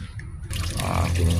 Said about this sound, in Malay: Buka air lah. Pakai lah. Saya mau tukar air dia kan.